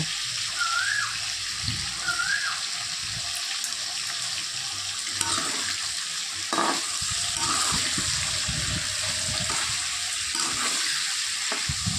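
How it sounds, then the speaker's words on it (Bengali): Pointed gourd and potato pieces fry with a little salt and turmeric in white oil in a wok, a steady soft sizzle with occasional louder crackles and spatters throughout. "সাদা তেল দিয়েছি কড়াতে, দিয়ে পটল আর আলুগুলো ভাজা করে নেব।"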